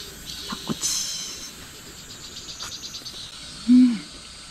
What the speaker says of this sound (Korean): 매미는 이제 벌써부터 열나게 울기 시작합니다